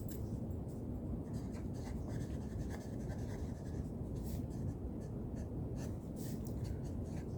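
A pen scratches quietly across paper in short, irregular strokes, close and soft, with no talking.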